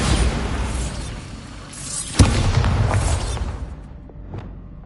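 A Bombarda blasting spell in a Harry Potter game goes off as a loud, rushing burst with a sharp crack near the middle, then a rumbling tail that thins out into quiet. No voices.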